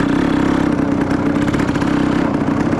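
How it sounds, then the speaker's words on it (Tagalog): A motorcycle engine runs steadily close by on a rural road, a continuous mid-pitched drone with a faint pulsing rhythm and no clear rise or fade, loud and alone without voices. "Motor!"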